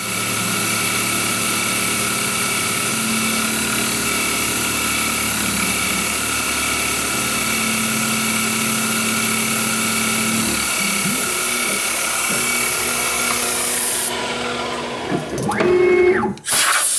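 A Grizzly G0704 mill runs a cutting program, giving a steady, loud mechanical whine with a low hum that carries on unbroken, then changes and falls quieter near the end with a few brief shifts.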